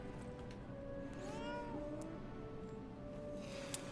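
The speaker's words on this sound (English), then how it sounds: "we got the cat here" A cat meows in the video game Lies of P, a few drawn-out, rising-and-falling cries over a steady bed of game ambience and music.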